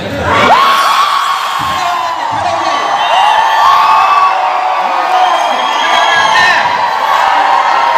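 An audience at a seminar event in Kolkata shouts, cheers and whoops loudly together, a dense sustained roar of many voices with rising yells throughout.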